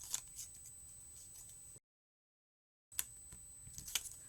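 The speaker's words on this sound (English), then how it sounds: "let me take all this tape away" Tape pulled away from a freshly die-cut paper card, heard as a few quiet crackling rips and peels with a short silent gap in the middle, close and alone with no talking.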